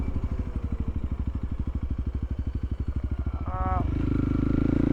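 Honda CRF300L single-cylinder dual-sport motorcycle decelerating on engine braking, a loud, rapid, steady chugging pulse from the exhaust that rises in pitch near the end as the revs change, close to the rider.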